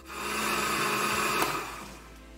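An electric blender whirs steadily as it grinds ginger and shallots with water into a spice paste, a close, even motor whine that swells and then fades away.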